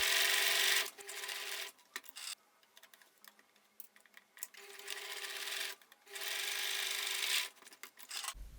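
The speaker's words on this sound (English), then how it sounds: "we will be sewing the shoulder seams with a straight stitch" A sewing machine runs a straight stitch along the shoulder seams of a ruched bodycon slip dress, in several short bursts with quiet pauses between them and no talk.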